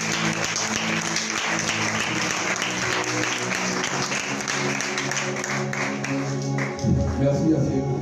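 A church congregation applauds, with steady, dense clapping from many hands that fills the room and swells louder near the end, while a voice speaks over it.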